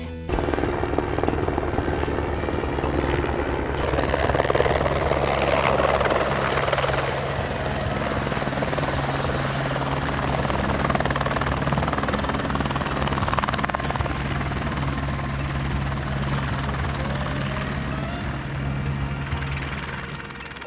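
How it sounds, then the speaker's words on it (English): An LA County Sheriff's Department helicopter landing at Hawaiian Elementary School, its loud rotor thump and turbine whine roaring steadily and close throughout, with no pauses. "the event when the sheriff's helicopter landed at Hawaiian Elementary School"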